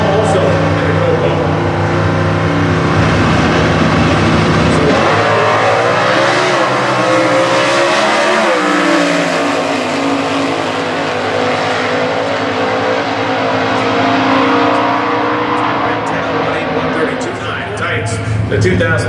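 Stock class drag race cars at Indy, including Cobras, roar past loudly with engines revving and a pitch sweep as a car passes, under continuous commentary.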